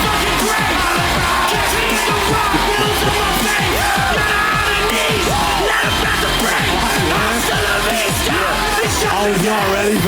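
A comedy club audience greets comedian Frenchy with loud continuous yelling, whooping and cheering, a dense crowd roar carrying voices throughout.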